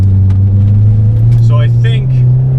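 Car fitted with new Maptun suspension, driven hard through turns: a loud, steady engine and road drone fills the cabin throughout, with a faint voice briefly rising over it.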